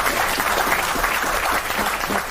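During a Filipino community evening gathering, a crowd applauds the engineer with a loud, continuous wash of clapping that holds steady for a couple of seconds, with murmured voices blended faintly underneath.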